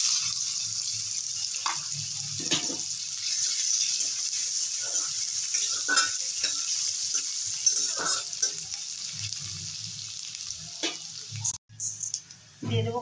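Chopped onion fries in butter in a pan with a loud, constant sizzle. Stirring scrapes and clinks come through, and a few soft voices and a brief drop in the sizzle occur near the end.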